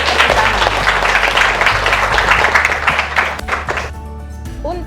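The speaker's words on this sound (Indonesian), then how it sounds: "Beri tepuk tangan." Applause from a classroom audience, a dense wash of many hands clapping loudly for about four seconds before breaking off abruptly into quieter room sound.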